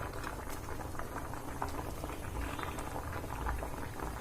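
Elephant foot yam boils in a covered pot, making a soft, continuous bubbling and patter that stays quiet and even throughout.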